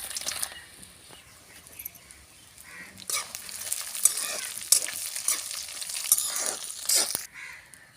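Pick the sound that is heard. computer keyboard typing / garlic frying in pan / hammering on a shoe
garlic frying in pan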